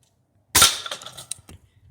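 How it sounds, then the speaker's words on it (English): An air rifle fires a pointed Hornet .22 pellet into a can about 10 yards away, producing one sharp, loud crack with a brief metallic rattle and a few small clicks trailing off. "now a can expansion test. Hornet pellet versus can, approximately 10 yards."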